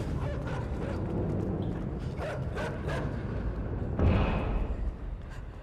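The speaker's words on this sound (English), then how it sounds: "There's another dog?" Dogs bark in the video game INSIDE, a busy run of yips and woofs layered over steady in-game ambience and mechanical noise, with a louder surge near the end.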